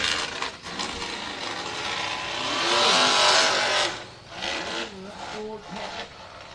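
An off-road buggy with a Ford engine revs nearby, rough and sputtering as it cuts out at low RPM and then surging into a louder, harsher roar, with people talking over it.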